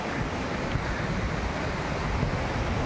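Pagsanan Falls waterfall, heard as a constant roaring rush of falling water, dense and even throughout, with no voices.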